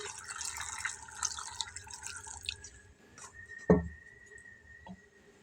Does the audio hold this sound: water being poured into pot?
yes